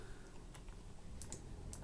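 A computer keyboard being typed on softly, with a few scattered, faint clicks over a low steady hum and no voices.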